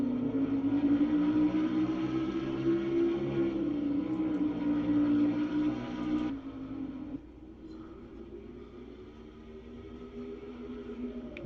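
Stock cars lap Bristol in a racing video game, their engines a steady loud drone that holds, then drops away abruptly partway through and continues more quietly.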